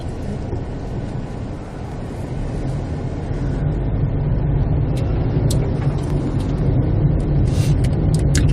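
Steady low engine rumble of a driving-school car pulling away as the learner presses the accelerator, building slightly louder over several seconds, close and continuous without talk.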